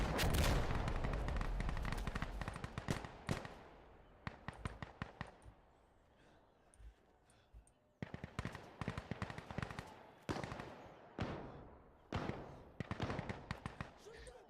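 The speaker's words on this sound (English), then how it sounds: "A Barrett, no, but a very big anti-tank rifle, yes. I think it's one of the Russian rifles." Heavy Russian anti-tank rifle fire in a first-person shooter game, loud sharp reports in quick irregular bursts with short pauses between volleys, each shot ringing off briefly.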